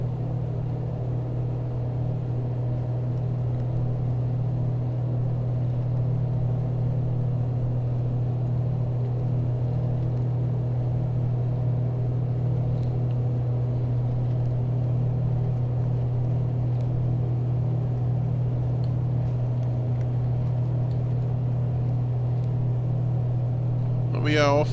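Twin-engine Piper takeoff roll in Microsoft Flight Simulator 2020, a steady droning engine hum at constant pitch throughout, moderately loud, with a faint rising tone at the very end.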